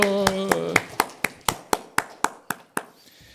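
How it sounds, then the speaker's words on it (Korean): Church congregation at a Sunday worship service breaks into rhythmic applause, a near, steady series of sharp synchronized claps at an even beat that slowly trails off, with a brief voice at the start. "박수!"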